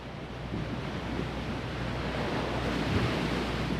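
Ocean surf rolling in behind someone standing on the shore, a steady low wash of waves mixed with wind buffeting the microphone, moderately faint with no talk.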